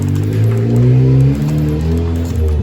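A Honda CG 160 motorcycle engine runs noisily up close, a steady loud idle with a slight rev swell and rough mechanical drone, with no talking.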